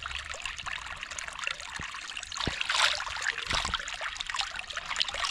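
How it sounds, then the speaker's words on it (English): Hands are washed under running water at a village water source. A close, steady trickle and splash of water continues throughout, with brief louder spatters, and no one speaks. "So I've come here to wash my hands here again."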